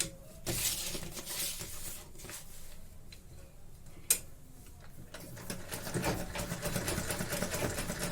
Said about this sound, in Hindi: अब इस पे मैं सिलाई की प्रैक्टिस करूंगी